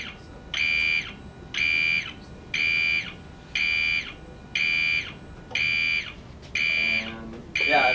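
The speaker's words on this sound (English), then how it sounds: "to reset the alarm so it shuts off" An electronic alarm on a student-built automatic fishing reel beeps in a steady run of seven evenly spaced tones, about half a second each, ending in a short mechanical whir.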